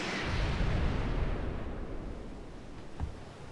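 A heavy rumbling bombing explosion in Civilization IV rolls out loud and deep, then fades, with one smaller thud near the end and no talk.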